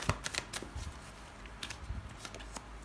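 Tarot cards being handled and laid down on a table, several quick soft slaps and shuffling flicks in an irregular rhythm, close and fairly quiet.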